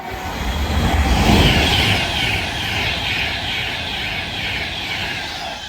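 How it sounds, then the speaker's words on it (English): An Avanti West Coast service from Manchester Piccadilly to London Euston passes through Nuneaton on the West Coast Main Line, a loud, steady rushing roar that swells early and then holds as it runs through, with no talk. "Soon to come charging our way through now will be Adventure West Coast service going from Manchester Piccadilly to"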